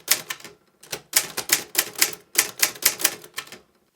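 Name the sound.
typing on an Olivetti Graphika manual typewriter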